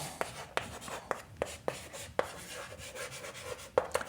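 A pen writes on paper during a maths lesson, close and quiet, with short scratchy strokes and regular small taps as letters and numbers are formed, no talk over it.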